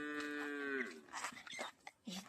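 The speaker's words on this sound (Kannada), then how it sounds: "ದನ ಎಲ್ಲ ಕಟ್ಟಾಕಿದ್ದಾರೆ." A tethered cow gives one long, close, droning moo in a rural village during the rainy season, followed by quieter irregular rustles and low sounds.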